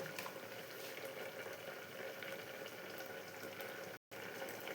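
Kidney bean mixture with coconut oil bubbling on a stovetop as its water cooks off, a faint, steady simmering fizz with one brief dropout near the end.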